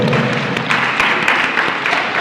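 With four fingers striking their palms, a large audience at a Janmashtami gathering produces a loud, dense wash of slaps close to applause, imitating heavy rainfall in a continuous roar.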